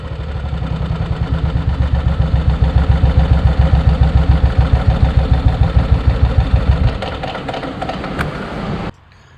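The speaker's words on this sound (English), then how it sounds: "once she's warm and you come to a stop, will she idle without being lumpy?" A motorcycle engine idles steadily after coming to a stop, with a loud, even low throb and slight mechanical clatter before cutting out near the end, leaving faint background noise.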